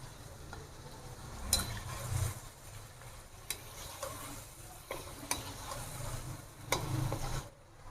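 A spoon works ground ginger through chicken karahi in a pan, giving a soft sizzle under several distinct scraping stirs and taps against the metal, spaced a second or so apart.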